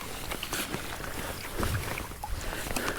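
A kayak paddles across open water toward Raymond Island, with a steady wash of water and wind noise and faint splashes from the strokes.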